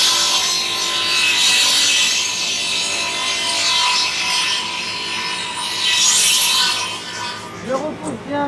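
Radial arm saw blade cutting through wood in a workshop, giving a loud close rasping, grinding whine that swells and eases through the cut, with a voice talking briefly at the end.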